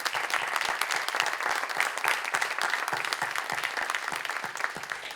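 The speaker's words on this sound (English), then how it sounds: "I just want to give her a round of applause" A room full of people applauds at a panel event on the Black Church and religious freedom, loud dense clapping with crisp individual claps standing out, sustained evenly throughout.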